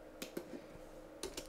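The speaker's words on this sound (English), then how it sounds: "you type in just ls" Typing on a computer keyboard during a Linux BASH terminal session: a few sharp, quiet key clicks in two small clusters, close and dry, with no talking.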